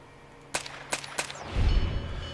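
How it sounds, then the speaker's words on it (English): Three sharp, muffled suppressed shots from an HK G35G1 battle rifle in the video game Fallout: New Vegas in quick succession, followed by a low rumbling tail, with quiet ambience beneath. "So silencer, it sounds like this."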